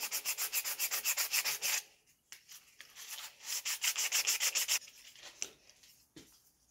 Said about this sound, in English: Quick sanding